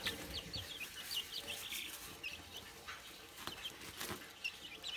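Young chicks chirp and peep inside a tent whose sides are covered by a net. The high, thin calls come in frequent short bursts over a steady background hiss, fairly close, with no talking.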